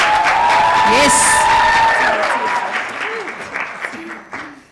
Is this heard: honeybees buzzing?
no